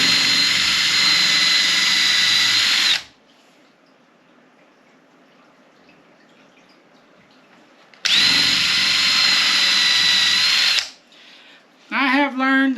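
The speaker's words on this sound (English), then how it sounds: "When you drill in holes like that, keep your fingers away from where any spot where it could possibly come out." Power drill boring holes into a junk dresser, two loud sustained bursts of about three seconds each separated by quieter room noise, then a brief burst of voice near the end.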